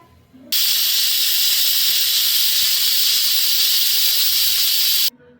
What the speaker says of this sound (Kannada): ಇವಾಗ ಎರಡು ವಿಷಲ್ ಆಗಿದೆ